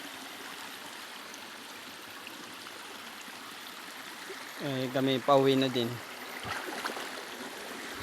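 A small, clear, cold stream flows steadily in a natural setting, a soft continuous trickle heard throughout, with someone briefly talking over it midway.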